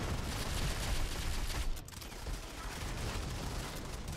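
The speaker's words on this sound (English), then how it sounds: "You see these snipers still just going off with these suppressors." Suppressed sniper rifle shots in the mobile shooter Go4MC5 on iOS, a dense, continuous stream of muffled gunfire with a brief dip partway through, steady and fairly loud throughout.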